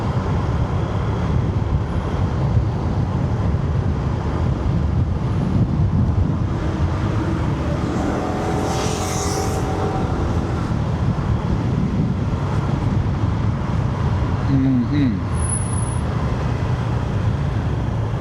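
Continuous buffeting wind roar and low rumble while riding a SYM 150 Fighter scooter, steady and close to the microphone, with a faint passing tone midway.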